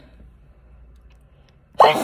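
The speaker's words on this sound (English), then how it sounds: "oh, I'm going to sneeze." A single loud sneeze bursts out near the end, close to the microphone, after a quiet stretch of faint room noise in a gym.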